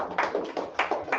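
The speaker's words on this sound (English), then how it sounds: "Keep it going. Keep it clapping." A congregation claps in rhythm during a Sabbath service, several quick sharp claps in a short burst, fairly quiet and close.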